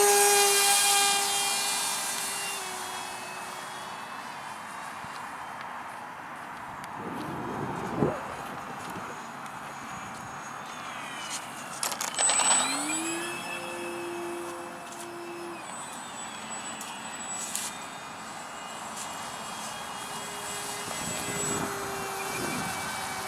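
A radio-controlled TU-144 supersonic transport model takes off, its small engine whining with a steady buzz that rises and shifts in pitch, with a few sharp bumps and brief surges over a moderate background.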